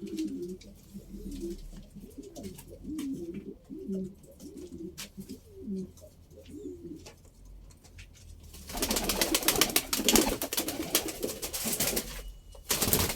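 Several pigeons cooing in low, repeated rolling calls close by, followed by a burst of louder rustling, flapping and scratchy noise.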